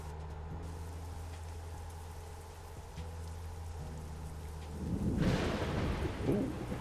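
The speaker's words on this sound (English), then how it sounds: "That's some loud thunder." Thunder from a thunderstorm in American Truck Simulator rolls in loudly over a steady low truck engine drone and rain, swelling into a crackling rumble in the final seconds.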